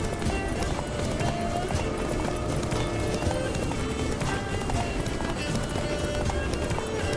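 Horse galloping in The Witcher 3 video game, a steady rapid clip-clop of hooves running on without a break over a full, busy background mix, with no talking.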